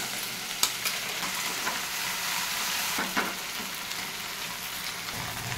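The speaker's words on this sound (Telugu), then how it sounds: "మనం తీసుకున్న బెండకాయ ముక్కలు ఉన్నాయి కదండి, వాటిని కొంచెం ఫస్ట్ వేయించాలండి." Okra pieces fry in hot oil over a high flame for an okra and egg curry, giving a steady close sizzle with occasional sharper crackles and stirring clatter, and no voices.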